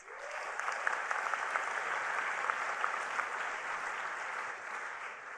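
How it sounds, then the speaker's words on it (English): Sustained applause from a large audience at a Hult Prize event for former Mexican President Vicente Fox, a steady even roar of many clapping hands heard from a moderate distance. "Please let's give President Vicente Fox a big hand of applause"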